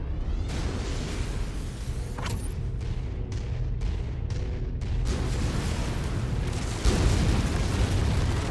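A target blows up in the video game Javelin JVN-10N: a loud, dense explosion with heavy low rumble and a string of sharp cracks and bursts, sustained throughout with a fresh surge near the end.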